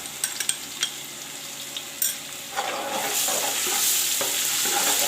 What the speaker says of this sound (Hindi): प्याज को फ्राई कर लेंगे। अब अदरक लहसुन का पेस्ट शामिल कर देंगे।